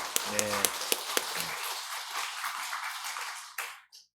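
Church congregation clapping in praise during a Sunday service, a few sharp claps at the start over a hum, the applause then tapering off and fading into near silence.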